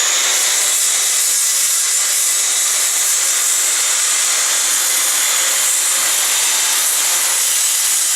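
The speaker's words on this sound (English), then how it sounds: "so to cut this 45, I like to clamp my boards down when I'm cutting" A saw cuts a 45-degree angle through a clamped wooden board, sending up a loud, continuous hissing rasp that stays close and steady throughout.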